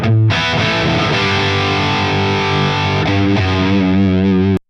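Distorted electric guitar played through a Mesa Mark V on channel 2 into a V30 cabinet, loud sustained chords with a gritty buzzing tone, changing chords every second or so, alone without talk, ending in a sudden cutoff.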